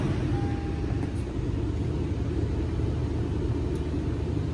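A car engine turns over and settles into a steady idle, heard as a constant low rumble throughout the short stretch with no talking.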